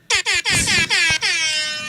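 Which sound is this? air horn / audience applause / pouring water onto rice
air horn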